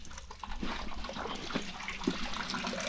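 Water trickling and dribbling into a concrete drainage well in an excavation for drainage work on a farm, a steady wet running sound with small splashes, fairly close and continuous throughout.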